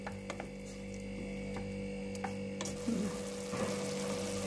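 Onions and tomatoes frying in a pan with cinnamon stick, ginger, black pepper, turmeric and ground spices, a steady low sizzle with a few sharp ticks and stirring scrapes over a constant hum.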